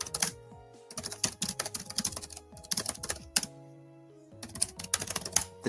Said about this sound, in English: The tapping of the keyboard.